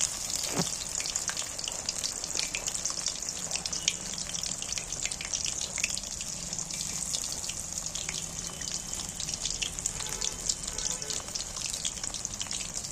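Fish sliding into a pan of plenty of hot oil for a shop-style Bengali fish fry, a dense, bright, continuous sizzle that stays loud and close throughout, with no talk over it.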